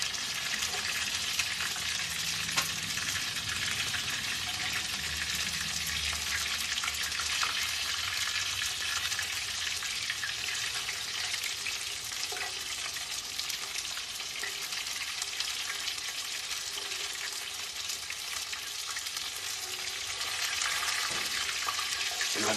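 Beer-battered fish crackles steadily on a grill, a dense, even frying hiss that carries on without a break for the whole stretch, with only faint clinks underneath and no talking.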